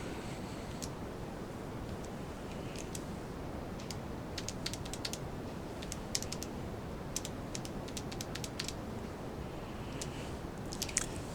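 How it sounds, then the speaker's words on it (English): Calculator keys are pressed to enter numbers, soft scattered clicks in small clusters over a steady low background hiss, fairly faint and close. "Can I get this on the calculator? Okay, so I'm just going to type that in."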